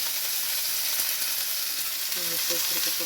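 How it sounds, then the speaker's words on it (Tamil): Onions, garlic and other aromatics sautéed in a pan for a coriander and mint chutney, giving a continuous close hiss and sizzle with faint stirring and a brief tonal sound near the end. "இதையும் போட்டு வதக்குவோம்."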